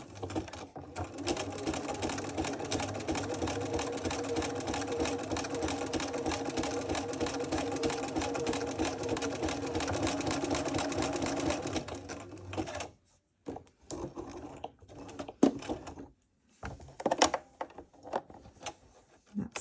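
A sewing machine stitching down a loop of sash cord rope for a rope bowl, a fast steady mechanical whir for about twelve seconds, then stopping, followed by a few faint handling clicks and thumps.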